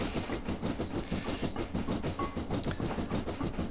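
A steam locomotive on the Culdee Fell Mountain Railway in Train Simulator 2020 climbing and accelerating, with rapid rhythmic chuffing and hiss over a continuous rumbling clatter.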